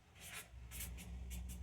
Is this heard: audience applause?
no